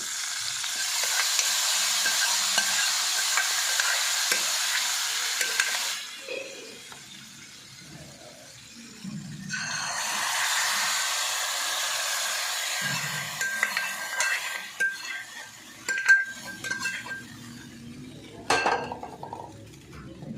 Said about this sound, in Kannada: ಒಗ್ಗರಣೆ ಹಾಕ್ತಾಯಿದ್ದೀನಿ